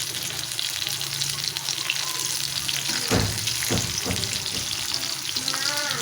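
Food fries in a small amount of cooking oil, giving a steady soft sizzle with a few stirring clatters midway, close but fairly quiet, with no voices.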